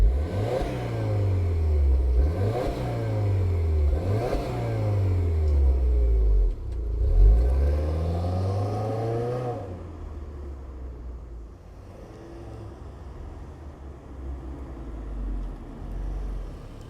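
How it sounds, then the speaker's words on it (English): A 2024 Subaru WRX Premium with an automatic transmission is started and revved hard several times in quick succession, its engine note rising and falling close by, then settling into a lower, steady idle. "let's fire up this WRX Premium and hear what it sounds like"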